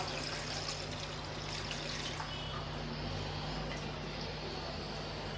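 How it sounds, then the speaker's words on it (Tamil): Water poured steadily into strained tamarind extract for tomato rasam, a continuous close splashing pour that runs unbroken for about five seconds with no voices. "இப்போ ரசத்துக்கு தேவையான அளவு நம்ம தண்ணி சேர்த்துடலாம்"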